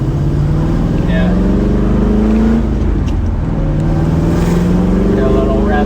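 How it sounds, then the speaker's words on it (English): 1979 Chevrolet Corvette C3 with L82 V8 engine, four-speed and side pipes, revving loudly up close, a deep throaty roar that climbs, dips briefly midway and climbs again. "Get a little rev going."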